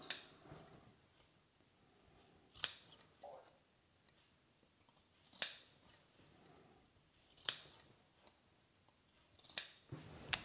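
Scissors snipping small triangles into a fabric seam allowance, five crisp separate cuts at even intervals, close and clear, with faint low movement between them.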